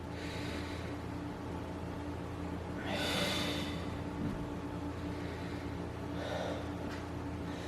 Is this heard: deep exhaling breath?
yes